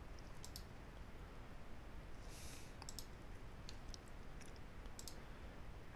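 Computer mouse double-clicked during Crestron touch panel programming, giving a few sharp, faint clicks in pairs and singles over steady background hiss, with no talking.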